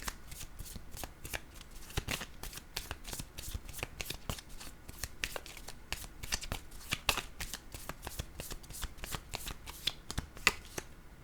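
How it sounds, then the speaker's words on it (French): Tarot cards are shuffled in a steady run of crisp riffling snaps, heard close and alone across the whole stretch, with a few sharper slaps as cards are laid down. "Je vais plutôt déposer une carte sur la personne souffrante."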